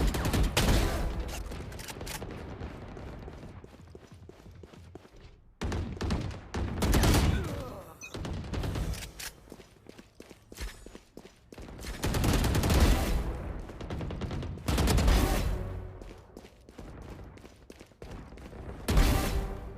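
Video game battle gunfire in repeated bursts, loud rapid volleys and rattling automatic fire alternating with short quieter gaps and mechanical clicks, close and dense across the whole stretch.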